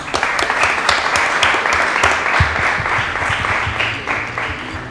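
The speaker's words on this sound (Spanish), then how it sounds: "Un aplauso." A lively audience at a chemistry talk breaks into loud, sustained applause, with close, crisp individual claps standing out from the dense clapping throughout.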